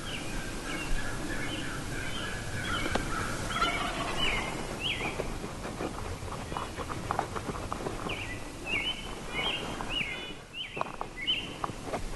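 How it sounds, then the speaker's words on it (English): Merriam's wild turkeys gobble in the Wyoming backcountry during a spring hunt. Repeated rattling gobbles come in two clusters at moderate distance over light rustling and outdoor ambience. "We started getting set up to start calling on these gobblers."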